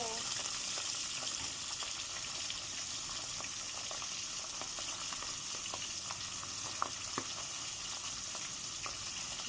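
Steady oil sizzle of pompano fish frying in a pan, with occasional sharper pops and crackles over the continuous hiss.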